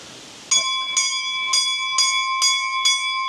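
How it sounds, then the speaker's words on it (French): A small chapel bell rings six clear, bright strikes at an even pace, close and loud, each tone sustaining into the next. "Voilà, la petite cloche."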